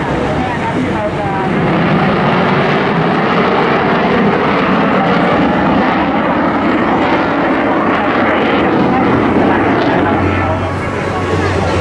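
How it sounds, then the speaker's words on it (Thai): A Royal Thai Air Force F-16B fighter jet makes a fly-by over an air base at a Children's Day event in Chiang Mai, a loud sustained roar under crowd and PA noise. "ที่มีโอกาสได้รับที่จะได้เห็นเครื่องบินF-16อย่างใกล้ชิดขนาดนี้แล้วนะครับ"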